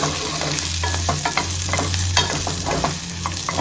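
Onions fry in a pan for a spicy onion chutney, a loud, continuous sizzle close up with brisk, repeated stirring scrapes from a spatula throughout and no voices.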